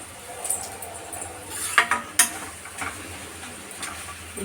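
A spoon stirring a cooked beans dish in a pan, a few scraping strokes with sharp metallic clinks near the middle, close and moderately loud over a low background hum.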